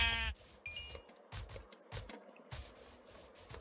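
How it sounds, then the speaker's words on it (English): Sheep in the video game Minecraft give a short bleat at the start, followed by several scattered rubbing and scraping bursts separated by brief silences, with no talk. "and there's our final sheep"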